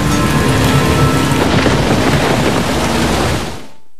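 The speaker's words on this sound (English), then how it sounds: "The rain that burns." Acid rain from Doctor Who pours down in a dense, loud, continuous hiss with rumbling undertones, steady throughout before fading out abruptly at the end.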